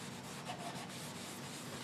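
Boiled linseed oil being rubbed onto a turned wooden bowl, a soft, steady, close-up friction and rubbing sound, quiet and continuous with no talking.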